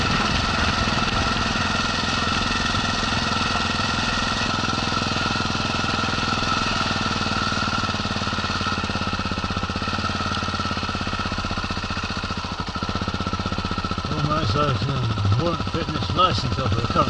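A motorbike engine runs steadily on a mountain road near Queenstown, New Zealand, a continuous close rumble with pitch shifts toward the end.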